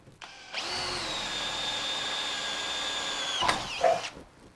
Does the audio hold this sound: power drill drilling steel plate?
yes